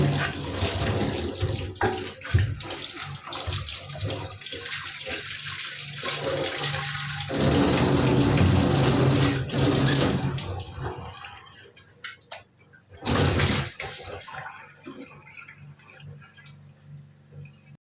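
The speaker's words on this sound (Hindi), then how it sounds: "तो सबसे पहले मैं पीने वाला पानी भर लेती हूँ।" Drinking water runs from a tap into a jug, a fluctuating splashing stream that swells and fades, with brief pauses and a final short burst before quieting down.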